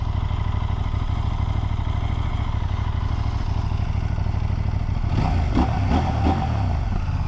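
A 2023 CFMoto IBEX 800S motorcycle rides along with a steady, close engine drone that holds throughout, with some rougher clatter toward the end.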